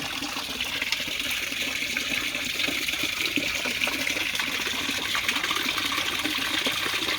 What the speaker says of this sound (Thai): เป็นของโซนิกปั๊มน้ำโซนิก